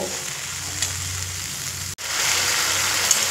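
Spices frying and being stirred in a pan over a low gas flame while raw banana kofta curry cooks with sour yogurt, giving a steady close sizzle with a brief interruption partway through.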